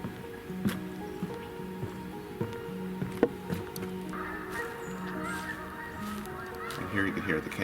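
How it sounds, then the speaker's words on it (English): Distant Canada geese honking intermittently across an outdoor scene on a hiking trail, faint and scattered, with a steady low background hum. "Here you can hear the Canada geese honking in the distance."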